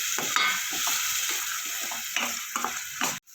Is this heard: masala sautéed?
yes